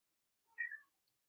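A single soft, faint cat meow, a short plaintive cry lasting under half a second in an otherwise quiet room.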